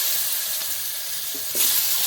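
Potatoes and squash frying in oil with bay leaf and whole cumin, left from frying fish, a continuous close hiss and sizzle with a brief louder surge near the end.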